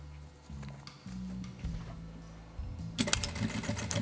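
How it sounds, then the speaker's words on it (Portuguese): A sewing machine stitching a wallet, whirring and clattering quietly in short runs before a louder, faster burst of stitching near the end. "vou fazer uma costurinha de segurança, aquela que eu já ensinei para vocês"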